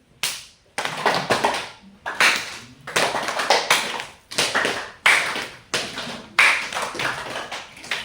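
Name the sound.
audience clapping hands as an exercise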